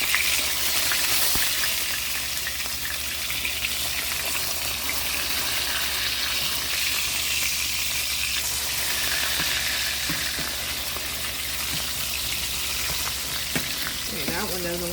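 Salmon fillets fry in a hot pan as they are flipped over one by one, giving a steady, loud, close sizzle with a few faint scrapes and clinks near the end.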